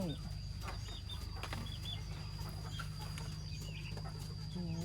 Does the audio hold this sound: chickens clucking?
yes